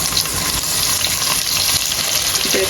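Onion fries with whole spices in a pan for biryani, giving a loud, dense, continuous sizzle heard close up.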